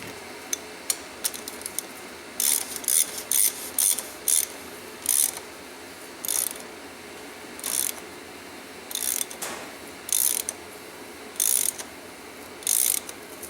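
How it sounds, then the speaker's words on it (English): A socket ratchet tightens a bolt in a series of quick, crisp clicking bursts, several short runs of ratcheting repeated at a steady pace, close and fairly quiet, with no talking. "using my patented socket, well not patented but my socket, I'll tighten it up"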